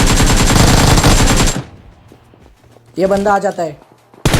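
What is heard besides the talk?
gunfire from the video game PUBG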